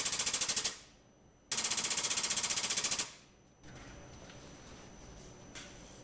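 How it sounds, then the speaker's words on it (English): A press drives a repair sleeve into the cylinder bore of a 258 AMC straight-six engine block. Two loud bursts of rapid machine-gun-like hammering are each cut off sharply, followed by a quieter steady machine hum. "If you listen close, you can tell when the sleeve hits that step at the bottom,"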